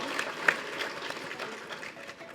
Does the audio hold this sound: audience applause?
yes